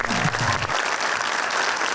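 Dense, loud applause from a studio audience, many hands clapping together in a continuous burst that holds steady for a couple of seconds.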